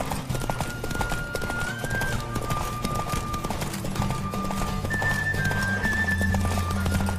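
A horse races at full gallop in The Witcher 3, its quick drumming hooves steady and close under a musical score, with a short whinny breaking through.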